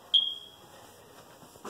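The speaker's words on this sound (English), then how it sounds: "or the version without the beep" An electronic device inside an Orlando house gives a single short, clear high beep that stands alone against a quiet room, followed by a faint rustle.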